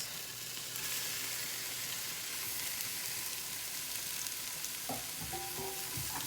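Shrimp sear in a pan with Thai curry paste over medium-high heat, a constant soft hiss of frying with a few utensil clinks near the end.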